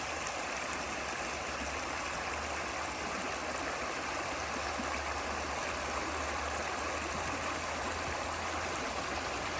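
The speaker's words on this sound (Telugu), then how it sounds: "ఇది ఇంకొక జలపాతం చూడండి ఎంత బాగుందో" A waterfall stream in a park rushes in a steady, even wash of flowing water, constant and unbroken with no voices.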